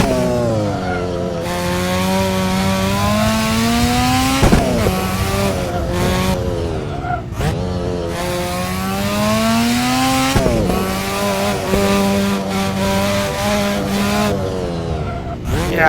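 A rotary-engine car revs hard and repeatedly bounces off its rev limiter, a loud, buzzy, continuous wail with rhythmic stutters and brief dips as the revs cut and climb again.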